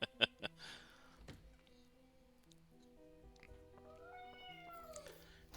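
Amid a quiet game soundtrack of soft music tones, a cat gives a short meow near the start and a longer, gliding meow near the end, both faint.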